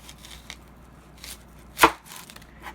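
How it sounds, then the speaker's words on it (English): A knife slicing an onion down the middle on a board, one sharp close chop standing out above faint background handling. "So, then you're just going to want to cut down the middle,"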